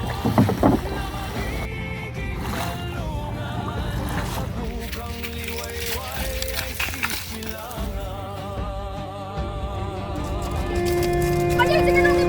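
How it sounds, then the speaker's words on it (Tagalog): A small boat moves across water, with sloshing and splashing under a steady wash of wind and waves, and voices now and then. "Sa dagat silang naglayag sa hangin at alon."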